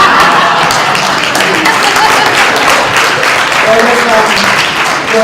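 An audience cheers and applauds loudly and continuously, a dense sustained roar of clapping with voices layered through it.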